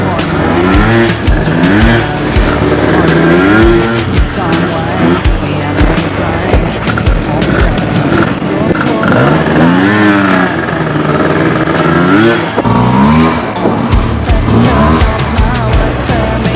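A 1990s-style street motorcycle in Pattaya is revved repeatedly, its loud exhaust rising and falling in strong surges that fill the whole stretch, close and continuous.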